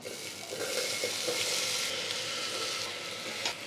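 Potatoes frying in coconut oil inside a pressure cooker for a Kerala sadya masala curry, giving a steady close sizzle with faint stirring scrapes and no talking.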